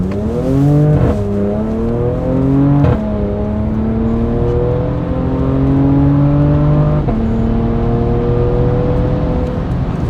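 A Porsche Macan fitted with an MBRP 2.5-inch axle-back exhaust revs hard at wide open throttle, its loud, close engine note climbing through several gear pulls with brief dips between shifts.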